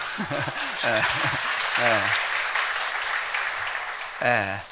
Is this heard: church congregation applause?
yes